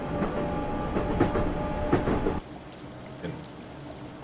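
In a train simulator game on a UK route between Faversham and Rochester, a train rumbles past with rhythmic clickety-clack, loud and close, then the noise drops away abruptly as it clears.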